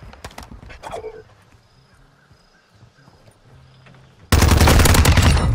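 TR-76 Geist rifle firing in a first-person shooter game, a sudden loud burst of rapid automatic fire near the end, after quieter scattered game sounds and a few earlier shots.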